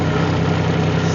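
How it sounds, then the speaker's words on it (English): Diesel engine of a Rippa R18 mini excavator running at a steady, loud low idle, a close, even rumble with no voices. "now we're going to turn the key to the right and start it."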